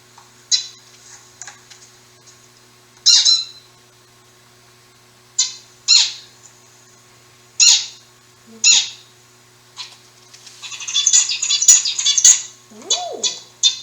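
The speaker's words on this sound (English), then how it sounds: "What does a finch sound like?" A finch gives sharp, bright chirps one at a time with gaps of a second or two, then a quicker run of twittering notes near the end, close and clear against a quiet background.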